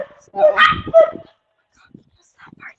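A couple of sharp dog barks ring out close by, followed by quieter yips and a brief spoken word.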